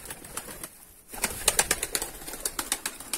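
Pigeons being released outdoors burst into flight with a flurry of loud, close wing flaps, rapid uneven beats starting after a brief lull.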